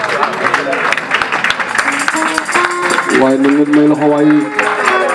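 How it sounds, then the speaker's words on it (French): Audience applause after a story told at a tribute event, a dense patter of many hands clapping that rises and holds under a speaking voice and some singing. "Applaudissez, applaudissez."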